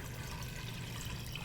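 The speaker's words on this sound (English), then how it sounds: "Pour in some cold water." Cold water pouring into a stock pot in a home kitchen, a steady close rushing splash with a low watery rumble running unbroken throughout.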